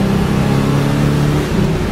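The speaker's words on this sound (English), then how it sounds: "Really comes into its own in the higher revs." A 1973 Pontiac Grand Am with a 400 V8 and four-speed revs loudly and steadily up close, its deep engine note held high in the rev range without pause.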